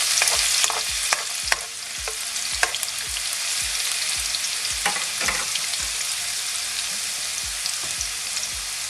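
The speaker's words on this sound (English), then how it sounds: "Now I'm gonna add the garlic. Just gonna give it a mix for a couple of seconds." Garlic sizzles steadily in hot oil in a pan, with a spoon repeatedly scraping and knocking as it is stirred, close and continuous without speech.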